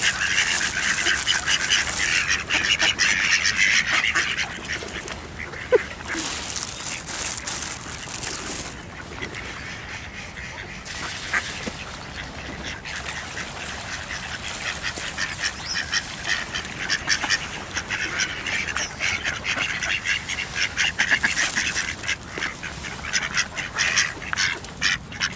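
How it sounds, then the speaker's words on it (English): Ducks quacking along the Avon River in a city, a flock close by with repeated overlapping quacks and honks of varying loudness over steady outdoor background noise. "I'm being attacked and bombarded by duckies."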